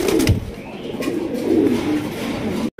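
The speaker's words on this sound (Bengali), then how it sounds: "দর্শক এখানে রয়েছে বিগ সাইজের রেড কালারের লাহোরি কবুতর দেখতে পাচ্ছেন" Big red Lahori pigeons coo close by in a low, murmuring, continuous burble, with a few sharper flutters and shifts of pitch throughout.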